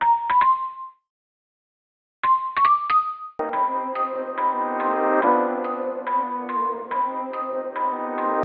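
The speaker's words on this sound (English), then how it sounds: "now I'm going to import a bell" Bell tones from a bell sample loaded into a sampler in Logic Pro ring out: two short struck chimes with a gap between, then a sustained layered bell melody rings on with overlapping notes.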